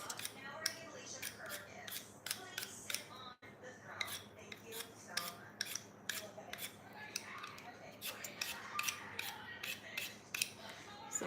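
Scraping strokes of a potato peeler on raw potatoes in a home kitchen, a rapid run of short rasping swipes, close and fairly loud, with light clatter of utensils between them.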